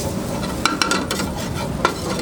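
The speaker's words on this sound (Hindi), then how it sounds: "थोड़ा सा इसको मक्की का आटा पहले भून लेंगे" Maize flour dry-roasting in a pan, giving a steady close scratchy rustle with a few sharp spoon taps against the metal over about two seconds.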